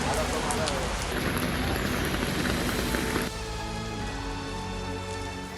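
Heavy rain falls in Mumbai as a dense, steady hiss of downpour that drums on surfaces, loud and unbroken throughout, with its texture shifting slightly partway through.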